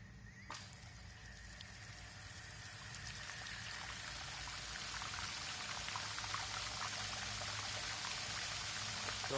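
Water sprays and hisses against the underside of a tractor mower deck on a Workmaster 25S with an MT125 deck, a steady close wash that starts abruptly and slowly builds in loudness.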